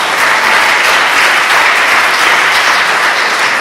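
Audience applause at a live comedy show, a dense steady wash of clapping that fills the whole stretch at full loudness with no voices over it.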